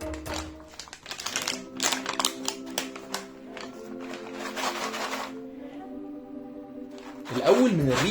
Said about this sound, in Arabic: نبدا كده نفتح مع بعض العبوه